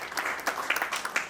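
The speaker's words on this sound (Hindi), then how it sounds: "ताली बजाकर प्रभु की महिमा" Wedding guests clap briefly at a Christian ceremony in India: a short burst of scattered, uneven handclaps in a room, lasting about a second.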